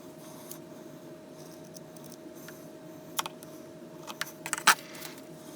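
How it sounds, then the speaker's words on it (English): Scissors snip through cheap filter material being cut to fit a ResMed AirSense 10i QuietAir vent, giving a few soft, close clicks over a quiet room hum. "I'm just going to be careful and cut to shape"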